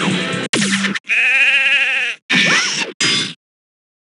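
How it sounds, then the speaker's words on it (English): A sheep bleats loudly in several separate wavering bursts as a game-show sound effect, with sharp cuts and silence after the last one. "Cindy Crawford shearing a sheep"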